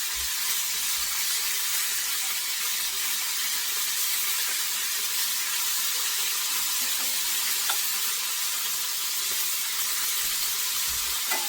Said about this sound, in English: now I'm going to sear my meat